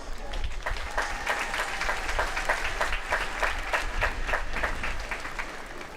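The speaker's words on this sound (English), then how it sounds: "Students, please take a moment to give them all a round of applause." A high school graduation crowd breaks into sustained applause, with rhythmic clapping filling the venue evenly for several seconds and faint voices mixed in.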